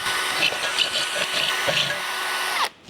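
A power drill boring holes in a Suzuki Spacia SSR wheel, a steady close whirring whine lasting a few seconds before cutting off abruptly.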